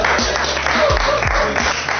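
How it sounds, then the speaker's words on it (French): An audience applauding a comedian at a live show, loud dense clapping that fills the room, with low thumps and some voices mixed in beneath the applause. "merci d'applaudir pour notre comédien"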